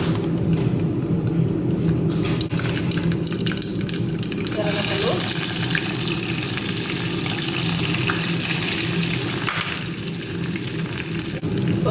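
Mustard seeds crackle and fry in hot oil in a pan for a village-style gongura and chickpea sour curry, giving a steady close sizzle with light stirring throughout.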